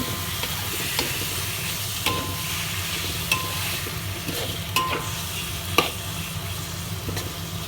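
Squid stir-frying in squid ink in a pan, a steady sizzle with occasional sharp scrapes and clicks of a utensil stirring through the pan, close and alone.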